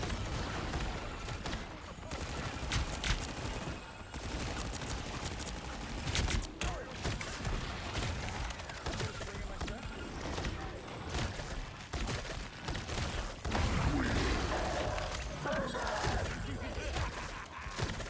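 Rocket Raccoon's weapon in the video game Marvel Rivals fires dense, rapid volleys of gunfire and blasts across a busy gameplay mix, with a voice calling out over the action.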